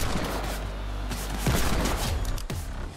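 Rapid gunfire from the Tango gun in the Fortnite video game, with loud shots repeating over a dense, busy game soundscape and two sharper blasts standing out near the end.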